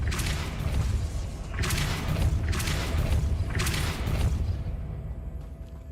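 Repeated Depulso spell blasts in Hogwarts Legacy, four heavy booming whooshes in a steady rhythm about a second apart, loud and close, the last fading into quiet.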